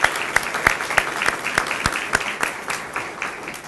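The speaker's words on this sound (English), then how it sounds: "Let's give them a round of applause" A room at a Harvest Seed fund press conference claps for the implementation team, a close, crisp round of applause with sharp individual claps standing out and slowly easing off.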